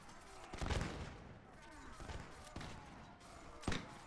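Scattered rifle shots from a volley fired at will in the Mount & Blade L'aigle mod, Napoleonic era with Sharpe's Rifles, at night: a handful of sharp cracks spread unevenly over a few seconds against a low background rumble.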